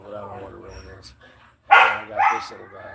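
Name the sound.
dogs barking in the background, a husky and small dogs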